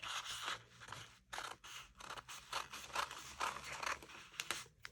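Scissors cut through boubou fabric in a steady series of close, crisp snips and rustling fabric scrapes, soft overall with brief pauses between cuts.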